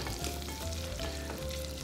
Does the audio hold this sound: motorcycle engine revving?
no